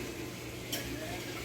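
Wet cake batter with vegetable oil being mixed in a bowl: a short, soft stirring swish with a faint clink of utensil against the bowl, steady and close.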